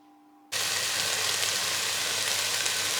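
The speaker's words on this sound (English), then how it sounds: "Listen to that sizzle." Food hits a hot pan for a mango chicken curry and a loud, steady sizzle of frying begins abruptly after a brief quiet hum, continuing close and constant to the end.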